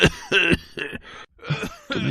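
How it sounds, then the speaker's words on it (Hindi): A boy coughs loudly several times in close, harsh bursts with short gaps between them and a brief pause before the last coughs. "सुबह जब उसकी नींद खुली तो वो जोर जोर से खांस रहा था।"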